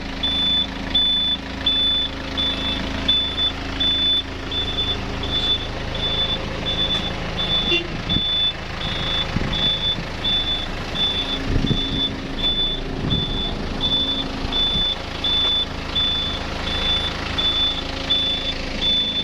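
Diesel forklift engine idling with a steady, rhythmic reversing beep repeating throughout, plus a low engine rumble and occasional clunks nearby, heard without voices.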